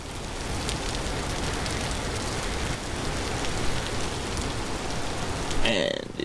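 Steady rain falls outside in the video game Vintage Story, a dense, constant hiss of drops at moderate loudness, with a brief clatter near the end.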